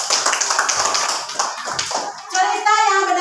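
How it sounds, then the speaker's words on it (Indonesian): Children in a classroom clap their hands, a dense burst of quick overlapping claps, close and loud, with a brief spoken voice near the end. "Ya, tepuk tangan."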